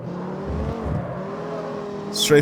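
A Dodge Viper accelerating hard out of a corner in the CarX Street racing game, a steady engine drone rising in pitch.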